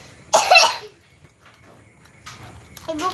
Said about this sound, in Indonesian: Kenapa orang-orang batuk-batuk?